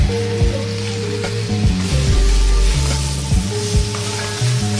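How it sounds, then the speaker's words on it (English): Chili flakes, chili powder, salt and pepper stir fried over high heat give a loud, steady sizzle with scraping stirs of the spatula, close and continuous with no talk. "we're going to stir fry that around. High heat."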